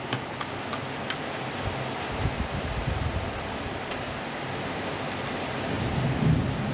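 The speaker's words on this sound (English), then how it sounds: "Wow, thunderstorm. We have a thunderstorm." Thunder rumbles low and steady through a thunderstorm, layered over a constant wash of rain with a few sharp ticks, growing slightly louder toward the end.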